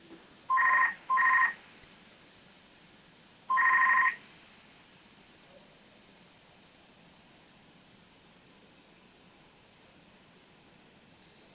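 A telephone rings in a quiet room, with two quick double bursts near the start and another a few seconds later, loud and close over faint background hiss.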